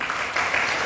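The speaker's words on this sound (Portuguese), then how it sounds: "E aquelas nossas palmas, né?" An audience at an evening lecture gives a brief burst of steady, close applause for a friend who played music there, with no talking.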